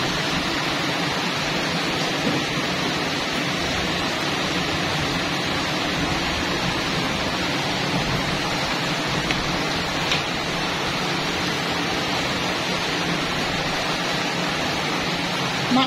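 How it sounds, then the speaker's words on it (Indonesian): Steady rain falls outdoors, a dense continuous hiss heard from indoors in a kitchen, unbroken throughout, with no talking. "Maaf agak bising teman-teman di luar hujan."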